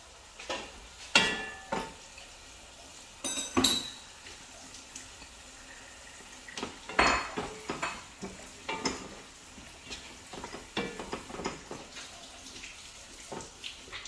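Okra stir-frying in a pot with stock nearby, giving irregular clattering stirs and scrapes over a low sizzling bed, with sharp utensil knocks around the second and seventh seconds.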